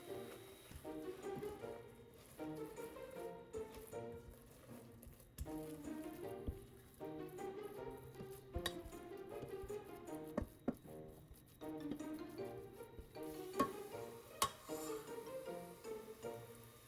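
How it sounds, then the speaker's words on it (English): Choux pastry dough being stirred with a spatula in a pan until it comes together: a steady, soft, rhythmic slapping and squishing of thick dough, close and quiet, alone without talk. "Stir it with a spatula until the dough comes together."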